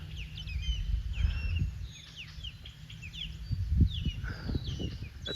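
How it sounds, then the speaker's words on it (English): Many birds chirping and calling along a sidewalk trail at Presque Isle State Park in Erie, Pennsylvania, a busy chorus of overlapping calls over low rumbling background noise. "Those birds are getting closer and closer."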